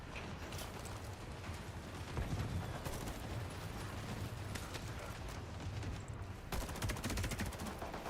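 Rapid, dense bursts of video game gunfire fill a firefight while defending a base, loud and continuous with sharper volleys cutting through, no voices heard.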